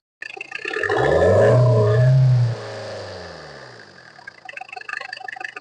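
A Tata Indica car engine roars loudly as it revs up, holds a high rumble for a couple of seconds, then drops back to a steady idle with faint clatter.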